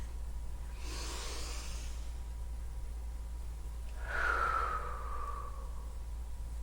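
Two long, soft exhales during a Pelvicore ball exercise on a mat, done on all fours with knees hovering, each breath a drawn-out airy rush against a quiet room.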